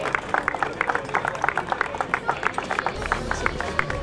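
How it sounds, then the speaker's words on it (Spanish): Applause from an audience at a motorsport awards ceremony for the Citroën Competición Clase B racing series: steady, fairly close clapping that keeps a quick, even pulse of claps throughout. "El aplauso para Julio Vera que recibe la sexta posición."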